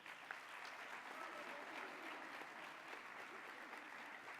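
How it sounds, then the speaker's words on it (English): Audience applause at a LULAC youth awards ceremony, honoring the youth board: steady, even clapping from a sizable crowd filling the room at moderate loudness, with no voices standing out. "May I please have an applause for our LULAC Youth Board?"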